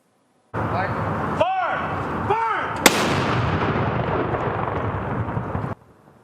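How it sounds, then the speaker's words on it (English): Blank artillery rounds fire in a 21-gun Remembrance Day salute at the Alberta Legislature in Edmonton, with a sharp loud crack followed by a long rumbling roll under a steady crowd or ambient wash before it cuts off. "the ceremonial firing of blank artillery rounds"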